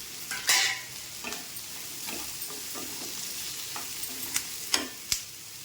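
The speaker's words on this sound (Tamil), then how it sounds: "வெங்காயம் வதங்கட்டும். அது கூடயே கட் பண்ணி வச்சுருக்கிற இஞ்சி பூண்டையும் நான் போட்டுக்கிறேன்." Onions, ginger and garlic sauté in a pan, soft sizzling with scraping stirs and a few sharp spoon clicks against the pan, close up with no talk.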